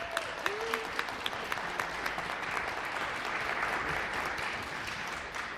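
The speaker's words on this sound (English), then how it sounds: "I want everyone to give one more round of applause because this is really exciting." A city council chamber audience gives a full round of applause, with sharp individual claps standing out early over a dense, sustained crowd clapping that carries on evenly.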